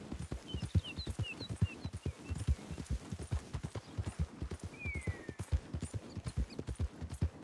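Horse in the Red Dead Online video game galloping at speed, with rapid, even hoofbeats pounding close throughout, plus a few faint whistles and creaks behind them.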